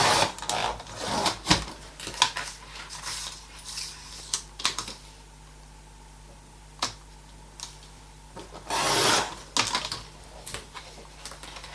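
Paper journal pages cut to five by seven inches with a knife: a run of sharp scraping strokes and taps, bunched at the start and again near the end, with quieter gaps between.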